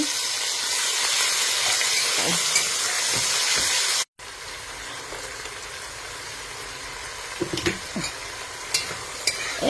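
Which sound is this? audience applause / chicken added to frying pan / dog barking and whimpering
chicken added to frying pan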